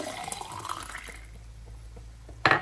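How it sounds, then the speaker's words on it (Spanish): Coffee poured into a small thermos in a home kitchen, a steady liquid trickle with faint gurgling that fades, then a sharp louder burst of splashing at the end. "El café en estos termitos, aquí se lo pongo a mi esposo para el trabajo."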